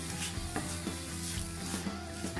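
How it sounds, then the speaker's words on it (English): Onion sautéing in a cast iron pan, a steady close sizzle with occasional stirring scrapes of a utensil against the iron, no voices over it. "go ahead and saute that onion for a couple minutes, soften them up a little bit"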